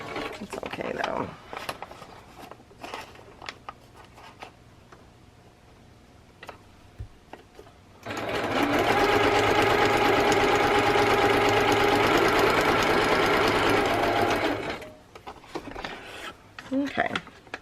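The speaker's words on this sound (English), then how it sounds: "So I think that's all the stitching we're going to do for right now." Sewing machine stitching fabric runs in one loud, steady continuous burst for about seven seconds, close up, with quieter handling noises and brief talk before and after.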